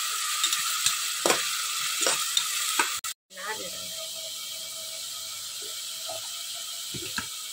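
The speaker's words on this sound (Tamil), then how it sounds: "இப்போ போட்டு நல்லா வதக்கிடுவோம் அந்த பச்சை வாடை போகிற வரைக்கும்." Chicken biryani ingredients sautéing in a pan, with a steady sizzle and soft stirring scrapes throughout, fairly close, briefly dropping out for a moment partway.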